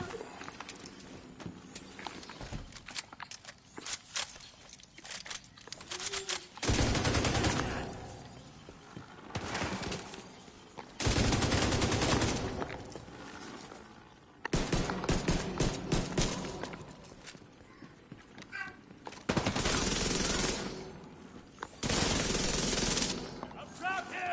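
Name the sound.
gunfire in the video game Division 2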